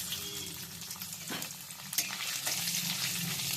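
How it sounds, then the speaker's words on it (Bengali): Grated coconut fries lightly in a pan with whole cumin and dried red chili. A dense, even sizzle continues throughout, broken by a few stirring scrapes. "নারকেলটা হালকা করে ভেজে নিচ্ছি"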